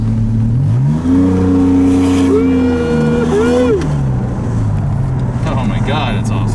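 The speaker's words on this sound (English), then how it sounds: "this car drives really nice. It's fast, it's loud. Let's put it in second" A 1981 DeLorean fitted with a DMC TECH Stage-2 engine and electronic fuel injection accelerates in second gear on a street, its loud, close engine note rising steadily in pitch, dipping briefly at a shift, then settling.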